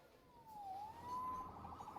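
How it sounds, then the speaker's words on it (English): Police siren from the video game Marvel's Spider-Man, a single wailing tone that dips and rises once before fading, fairly faint under low background noise. "Saved by the siren"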